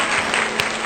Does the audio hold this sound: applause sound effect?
yes